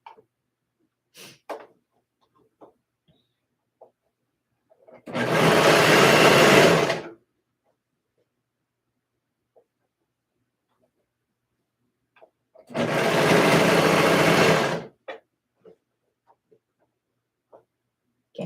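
A serger stitches down the pleats on a dress in two steady bursts of about two seconds each, close and loud, with short pauses and small handling clicks between them.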